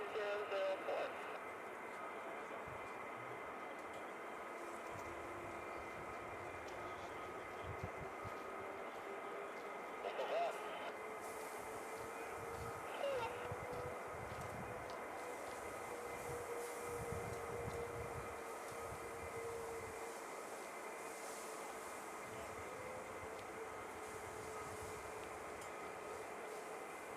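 Several F-15 fighter jets idling and starting up at RAF Lakenheath, heard as a steady, distant roar of turbine drone that holds throughout, with faint voices now and then.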